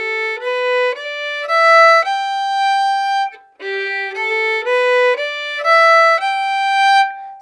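Solo fiddle plays a variation of the G lick from a tune, a run of clear bowed notes in two matching phrases separated by a brief pause, close and alone with no talk.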